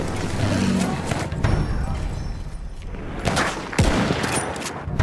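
Battlefield 1 gameplay gunfire: a few sharp, loud shots and bangs break through an otherwise busy battlefield din, arriving in short bursts with gaps between them.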